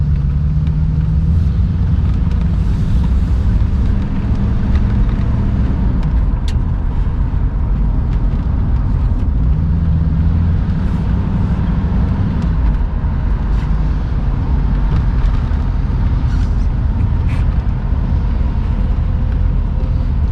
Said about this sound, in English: What a fantastic driving car.